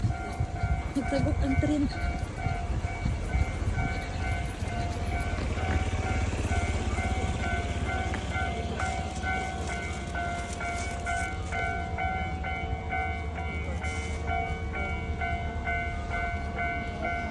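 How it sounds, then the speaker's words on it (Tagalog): A train rumbles past near Kyoto, Japan, with steady low rolling noise and a sustained tonal hum, while people talk over it. "magtabok ang tren."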